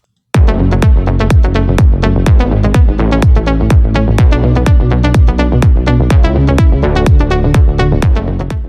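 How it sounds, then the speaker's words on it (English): Synth lead and bass from a melodic house drop playing together, loud and dense with a driving rhythmic pulse of repeated punchy notes over sustained low bass, starting abruptly after a short silence. "So if we play the lead and the bass together, they sound like this."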